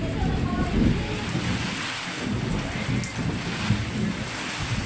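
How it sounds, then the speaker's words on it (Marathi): Heavy evening rain pours down outdoors in a steady, dense roar of close, continuous noise that holds at an even loudness throughout, with no talk over it. "संध्याकाळचं झालं, रोरान पाऊस चालू आमच्या इकडे"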